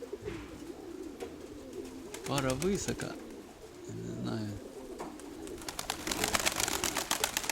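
Pigeons cooing in soft repeated rolling calls, close by, with someone speaking quietly between and over them and a flutter of other bird sounds outdoors.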